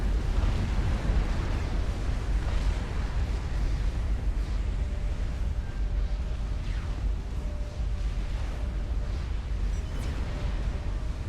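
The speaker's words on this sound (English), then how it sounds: "a nuke lands and absolutely kills everything" A nuke detonating in the real-time strategy game Supreme Commander: Forged Alliance gives a loud, sustained, rumbling roar of deep explosive noise that holds steady for about eleven seconds, with no talking.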